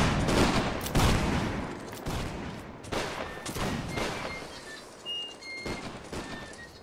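Repeated gunfire volleys from rifles in an online war video game, sharp broadband cracks bunched in bursts at about one, three and six seconds, with scattered shots between and faint tonal whistles in the background.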